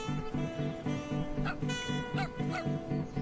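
A dog barks repeatedly in the video game Dropsy, with short yipping calls in a steady rhythm over looping game music.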